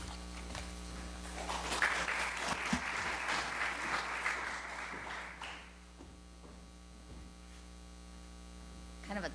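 An audience at a scientific meeting applauds as a speaker is introduced. A burst of clapping lasts about four seconds over a steady electrical hum, then fades, with no voices.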